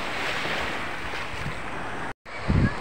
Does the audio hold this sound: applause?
no